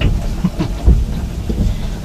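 Rain falling as a steady, dense wash of noise with soft low rumbles underneath, fairly close and continuous, with no voices.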